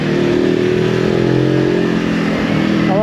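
A 2023 Voge 525 ACX motorcycle engine hums steadily while being ridden, a loud, constant mid-pitched drone with wind noise, slightly rising in pitch at the end.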